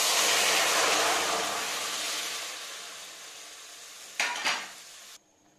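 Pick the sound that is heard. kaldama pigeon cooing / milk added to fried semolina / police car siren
milk added to fried semolina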